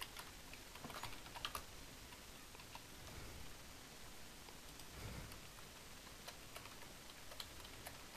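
Fast, irregular clicking of computer keyboard keys during Java programming, close and fairly quiet, with bursts of keystrokes and short pauses over a faint background hiss.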